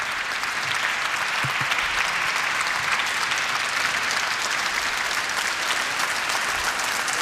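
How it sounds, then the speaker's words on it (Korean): An audience at the Körber Foundation in Berlin applauds after President Moon Jae-in's speech on peace on the Korean Peninsula. Loud, dense clapping continues without a break throughout. "문재인 대통령, 청중들의, 관객들의 박수에 화답하고 있습니다"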